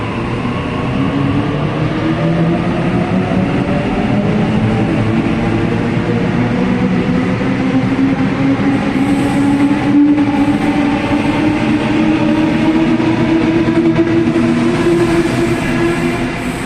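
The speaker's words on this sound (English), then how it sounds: "So I'm just going to film at Lidcombe for some morning peak trains." Sydney commuter trains at Lidcombe station during morning peak, with a loud, continuous rolling rumble and rising and falling motor tones from passing carriages, steady throughout with no talking.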